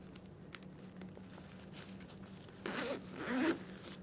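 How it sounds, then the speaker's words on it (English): Heavy-duty zippers on an Alpinestars GP Tech V3 leather race suit are run along their tracks in two close, rasping pulls, the second longer and louder, following a quiet stretch of faint handling. "Zip that down."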